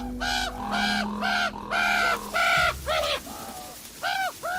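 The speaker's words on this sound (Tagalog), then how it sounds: "nakakagulat naman tong uwak na to" A crow perched at a bedroom window caws repeatedly, loud and close, in a run of harsh calls with brief gaps, over a faint steady hum.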